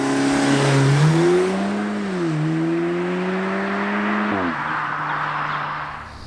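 An Audi A3/S3/RS3 exhaust, heard from outside the car, revs up and down in loud, close sweeps, dips and climbs again, then settles into a steady idle.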